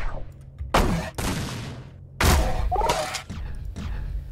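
Game gunfire in Plazma Burst 2 comes as a few loud, sharp broadband bursts separated by short gaps, with a brief tonal whine near the end and a close, punchy quality.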